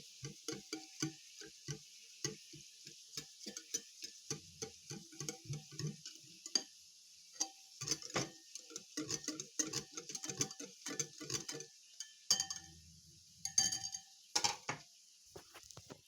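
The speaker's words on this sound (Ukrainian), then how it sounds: "Гарненько вимішуємо нашу сметану з часником і сіллю." A spoon stirring sour cream with garlic and salt in a bowl, producing quick irregular clinks and scrapes in a quiet kitchen, with no speech.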